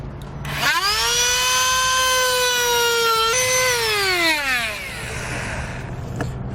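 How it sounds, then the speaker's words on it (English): A Dremel rotary tool trims a plastic bumper section on a 2019 Subaru, giving a loud, steady high whine that holds for about three seconds, then dips in pitch and fades out. "I'm going to use a Dremel tool just so I can make a nice clean cut"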